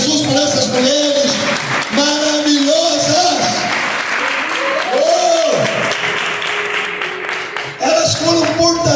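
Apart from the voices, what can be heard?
applause in church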